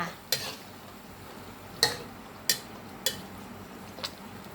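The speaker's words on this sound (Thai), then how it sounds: "เราวักน้ำมันใส่หน่อยนึงก็ได้นะคะ น้ำมันร้อน ๆ" Hot oil is spooned over pla salid fish frying crisp in a pan: a handful of sharp metal clinks of spoon on pan, spaced about a second apart, over a faint steady frying hiss.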